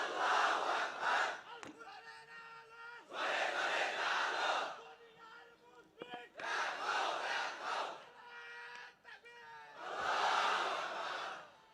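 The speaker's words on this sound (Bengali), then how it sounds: "এই হলো তাকবীর।" A crowd shouts the takbir chant in unison, four loud group bursts with short pauses between them, a lone voice leading in the gaps.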